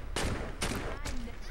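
Three sharp bursts of gunfire from police in the video game Saints Row 2, evenly spaced about half a second apart, loud and close with no talk over them.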